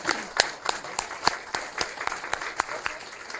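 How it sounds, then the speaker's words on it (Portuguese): Scattered applause in the Brazilian parliament, sharp individual claps from a handful of people in an uneven rhythm, moderately loud and close, with faint room voices underneath. "peço uma salva de palmas a todos eles"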